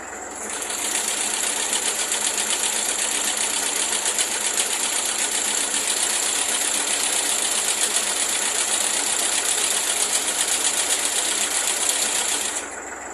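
A Massey Ferguson sickle finger bar mower runs steadily at close range, its cutter bar chattering in a fast, even rattle with a high mechanical whine, starting just after the first second and stopping near the end.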